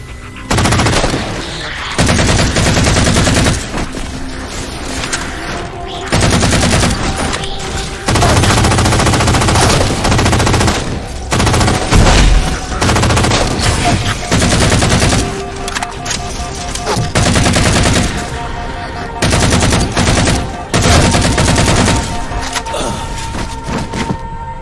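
Gunfire in the video game Halo 4 comes in loud, dense automatic bursts with short gaps between them, joined by thumps and explosions throughout and no voices.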